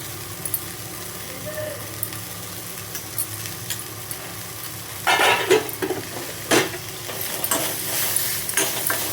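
Onions frying in a pan, a low steady sizzle that swells into louder bursts of scraping and clattering as a spoon stirs them.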